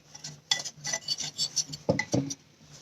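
Dry batter ingredients for a Bengal gram and coriander pancake are stirred with baking powder in a bowl, giving soft, quick scraping clinks of a utensil against the bowl. The sounds are faint, close and irregular.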